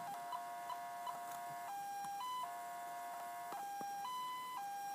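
A video game ambulance's electronic halo siren alternates between two pitched tones in a repeating hi-lo pattern, with quick yelping bursts at the start, clear and steady without speech.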